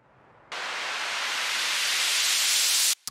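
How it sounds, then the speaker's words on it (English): An electronic white noise fill for a dance-pop remake, a loud, even hiss that cuts in abruptly, holds steady and bright for about two and a half seconds, then stops sharply. "And then white noise fills."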